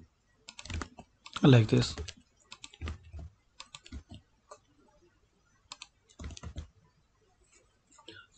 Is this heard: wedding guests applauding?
no